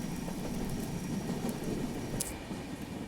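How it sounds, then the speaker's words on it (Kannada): Steady monsoon rain during a Konkan Railway train journey, a broad continuous hiss with a low rumble beneath, uniform in loudness throughout. "ಇದು ಮಳೆ ನೋಡ್ರಿ ನೀವು ಮೊದಲು"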